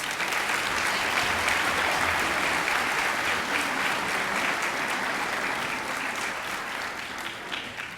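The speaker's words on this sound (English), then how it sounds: "So let's have a round of applause for our parents and guest educators." Sustained applause fills an auditorium at a high school academic achievers recognition ceremony, a thick, even wash of many hands clapping that holds steady throughout and fades slightly near the end.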